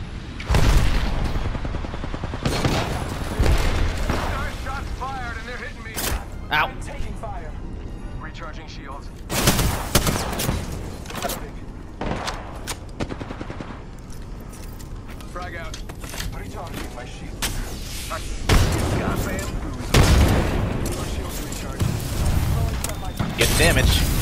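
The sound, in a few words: grenade explosion and gunfire in video game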